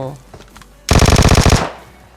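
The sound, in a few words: gunfire from the video game PUBG Mobile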